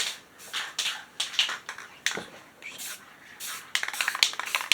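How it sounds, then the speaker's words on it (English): A black spray paint can hisses in a string of short, sharp bursts separated by brief pauses, close and fairly loud, the bursts crowding together toward the end. "I'm going to use my black can here, my black spray paint can, and we're going to fill in that mountain."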